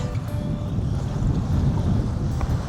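Steady wind rumbles and buffets against the microphone on the north-east coast of Boracay island, Philippines, a constant low roar with no voices.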